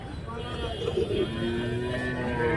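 Cattle low at a busy cattle market in Karimangalam, Dharmapuri, a drawn-out moo rising over crowd chatter and nearby voices.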